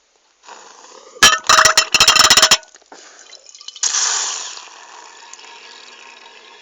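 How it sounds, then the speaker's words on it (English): Quiet watery hiss interrupted by a burst of crackling, bubbling pops, then a soft gurgling slurp as liquid is drawn up, fading to a low hiss. "hopefully all the water should actually get sucked in to the glass"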